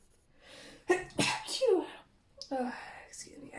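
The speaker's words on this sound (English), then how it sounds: "These sneezes have still not left me." A person sneezes several times in quick succession at close range, sharp bursts separated by brief pauses and soft breaths.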